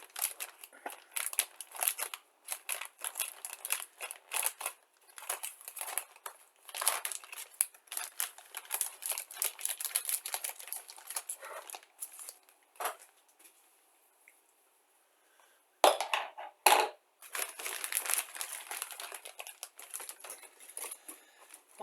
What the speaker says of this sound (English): Gonna ditch the X-Acto knife, go with the scissors.